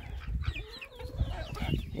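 Backyard hens clucking softly over a busy, low outdoor background, faint scattered clucks and chirps heard at a distance.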